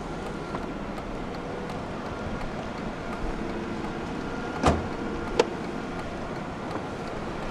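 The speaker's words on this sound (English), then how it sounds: "roll down the driver's side window" Driver's power window of a 1995 Mercedes-Benz S320 long-wheelbase rolling down, a low steady motor hum with a soft thump near the end and a short click after it.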